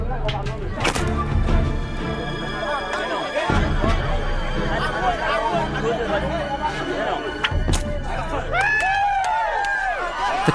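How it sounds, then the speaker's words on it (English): Crowd noise at a stick-fighting match held as a coming-of-age rite, a loud steady roar of many voices with sharp shouts and whoops rising throughout, continuous and close. "The crowd roars."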